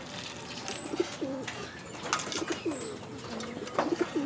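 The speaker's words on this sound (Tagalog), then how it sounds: "Still needs help from the mama and the papa pigeon." Pigeons coo repeatedly in soft, rolling phrases close by, with a few brief chirps and light rustling between the calls.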